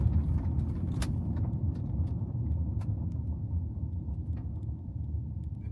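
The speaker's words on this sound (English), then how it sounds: "I'm going to turn here and accelerate across some loose surface, see how it handles that." A Zeekr 7X SUV rolls sideways across loose gravel with a steady low rumble of tyres and road noise from inside the cabin, plus a few sharp clicks and ticks, and no talking.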